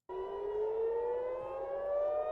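A civil defense air raid siren wails steadily over Tel Aviv during missile attacks, its tone slowly rising, loud and continuous with no voices.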